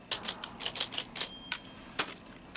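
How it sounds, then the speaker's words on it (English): Rapid keystrokes on a typewriter in the game Firewatch: about a dozen crisp, close mechanical clacks in an uneven rhythm, with no talk. "Look at my cool typewriter."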